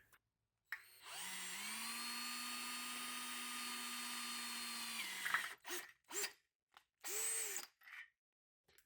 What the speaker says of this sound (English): So we're going to drill a hole right there